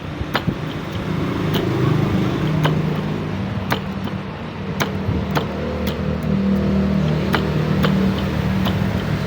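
Road traffic beside a street corner: continuous car engine rumble with passing vehicles rising and fading, plus scattered sharp clicks from nearby work.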